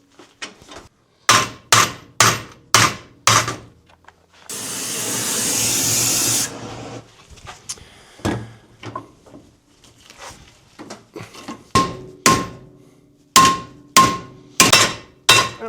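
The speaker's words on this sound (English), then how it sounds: "Now the redder you get it, the easier it is to bend. Obviously. In fact, I think I might just hammer it." Red-hot angle iron is hammered to bend it on an excavator rebuild: sharp ringing metal blows land in quick bursts of four or five, broken by a few seconds of loud torch hiss, then more clustered strikes.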